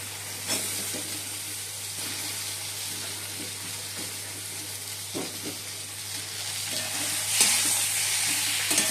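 Malabar spinach and fried potatoes sizzle and fry in a pan as they are stirred, giving a steady close hiss broken by a few sharper scraping stirs.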